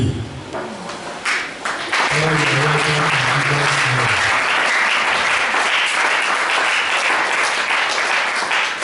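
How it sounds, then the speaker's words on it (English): After a man's brief spoken introduction, a church audience breaks into loud, sustained applause, dense clapping that continues steadily to the end. "That clapping is too small."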